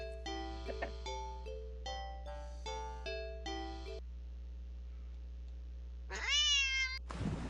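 In the video game Fluffyween, an angry cat lets out a loud, rising yowl near the end, after a run of chiming musical tones over a low steady hum.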